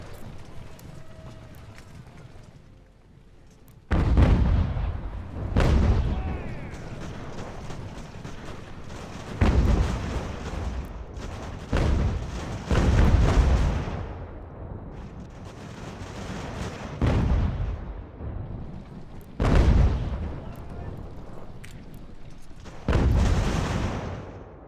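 Mortar fire booms repeatedly in the Revolutionary War strategy game Ultimate General: American Revolution, a series of loud, irregular blasts over ambient battle noise, with speech at times.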